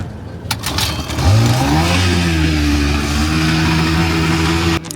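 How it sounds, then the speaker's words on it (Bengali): A local passenger speedboat's engine starts at a jetty on the Bay of Bengal near Moheshkhali, Cox's Bazar. After a short scrape it catches into a loud, steady droning hum that holds almost to the end, with no voices. "হঠাৎ ইঞ্জিন স্টার্ট,"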